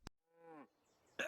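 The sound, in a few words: cattle mooing in My Little Pony episode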